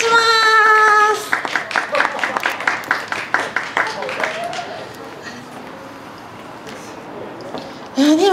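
Audience clapping at an idol live show in an Aeon shopping mall, a burst of distinct handclaps that thins out and fades, following a brief sung tone at the start.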